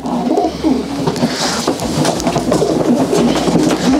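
Pigeons at a Polish racing-pigeon breeding loft coo repeatedly at close range, soft rolling calls layered over a steady background murmur of other birds.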